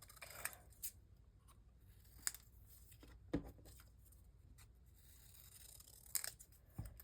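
Scissors snip craft material in a quiet room, giving several short, faint, crisp cuts spaced irregularly over a low background hum.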